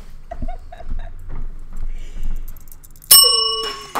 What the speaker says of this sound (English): So that's a tradition here, ringing the bell when you actually pull off something cool